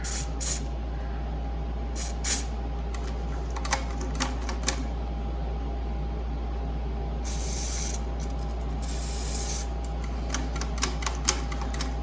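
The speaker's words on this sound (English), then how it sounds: "I'm gonna put a little white lithium on here." Several short hissing bursts of white lithium grease aerosol spray, some brief and one longer, against a steady low hum in a quiet room.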